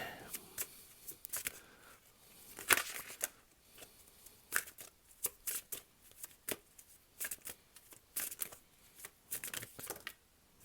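Tarot cards are shuffled in a series of brisk, crisp riffles and soft flicks, moderately close, with short pauses and a few sharper slaps between bursts, and quiet speech faintly in the background.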